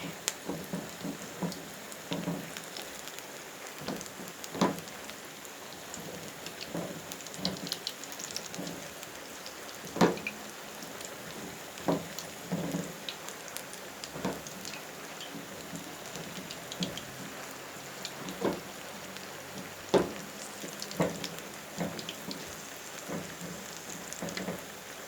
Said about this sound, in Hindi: और बारिश हो चुकी है तेज़, थोड़ी सी ज़्यादा ही तेज़।